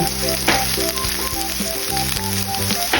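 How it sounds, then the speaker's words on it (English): Country-style shredded hash browns browning in a pan for a breakfast lasagna: a loud, steady, close sizzle fills the whole stretch, with faint scraping and clinking mixed in and no talking. "I have a few hash browns in the pan, and I am going to brown"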